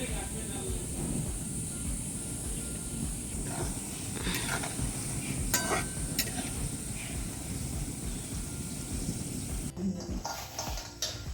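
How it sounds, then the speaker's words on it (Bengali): Steady hiss and bubbling of palm fritters frying in oil, close and continuous, with a few clinks of utensils partway through. "তো দেখো বন্ধুরা বড়া ভাজা শুরু করে দিয়েছি"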